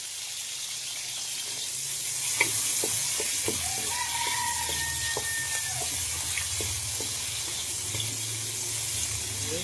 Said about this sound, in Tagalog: Bell pepper muna yung iprito natin.